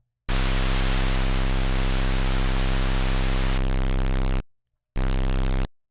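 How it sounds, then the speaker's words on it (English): A synthesized square wave with a touch of noise and distortion, a loud buzzing harmonic-rich tone with hiss that changes timbre partway, cuts off, then returns briefly. "I think we're going to do a square wave along with just a touch of noise."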